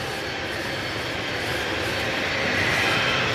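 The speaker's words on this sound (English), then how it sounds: "let's have a look at this KLM Embraer that's now coming on the runway behind it" A KLM Embraer E190 jet sits on the runway at Manchester Airport, its engines giving a loud, steady roar that swells slightly toward the end, heard from a distance with no speech.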